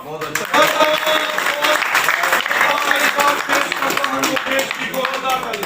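Enthusiastic applause from a crowd at a political gathering at the Bharatiya Janata Party head office in Jammu, dense clapping that holds steady for several seconds without pause.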